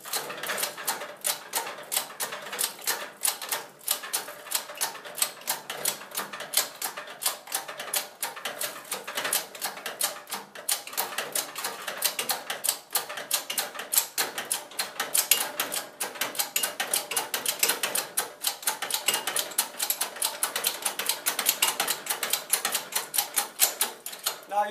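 A hand-operated hydraulic pump is worked steadily to push plasticizer out the top, giving a dense, continuous run of rapid mechanical clicks and ratcheting taps at a fairly even level for the whole stretch, with no talking.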